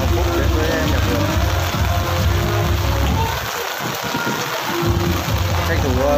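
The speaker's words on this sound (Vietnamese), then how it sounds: "Mưa quá, anh em đang trú mưa." Heavy rain pours down at a garden nursery, a dense, continuous hiss of rain on surfaces that eases slightly midway before returning at full strength.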